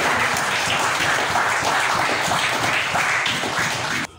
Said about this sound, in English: let's give him a clap this morning.